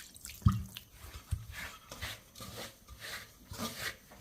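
Water being poured onto roasted rice flour with a pinch of salt to moisten it for puttu, giving soft close drips and splashes with small mixing sounds, no talking.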